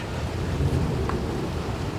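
Rain starting to fall outdoors, a soft steady patter and hiss with low rumbling wind buffeting across the short stretch, fairly faint and continuous, no talking.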